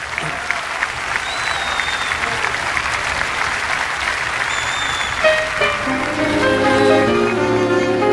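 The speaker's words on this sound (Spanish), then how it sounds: "voy a pedirle ese aplaudazo al Moro, para que prosiga para la juventud" An audience at the Cosquín festival in Argentina applauds loudly and continuously, a dense wash of clapping that lasts the whole time, with a few sustained musical tones entering toward the end.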